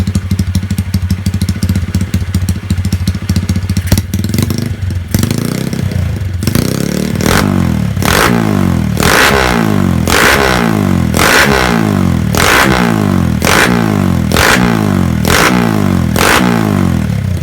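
A Honda GL Pro motorcycle engine, bored up, idles with a rough clatter and then revs hard over and over in a steady rhythm, each loud rising roar dropping away again, close and unbroken.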